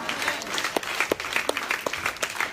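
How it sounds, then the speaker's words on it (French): A church congregation claps in rapid, uneven bursts, a dense round of applause heard at moderate distance with light crowd murmur beneath. "Acclamons Jésus-Christ."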